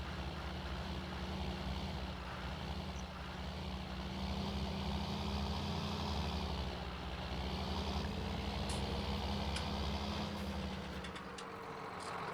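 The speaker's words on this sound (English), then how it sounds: "Now I know this tractor's a lot louder" A tractor engine idles and rumbles steadily in a video game, with a low droning hum that holds throughout and no talking.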